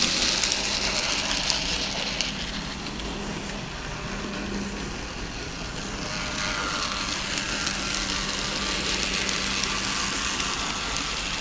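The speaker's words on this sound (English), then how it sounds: "let's dive in and see some trains in action" N gauge model trains run around a layout, giving a steady close rattling and rolling hum of small wheels on track that carries on without pause.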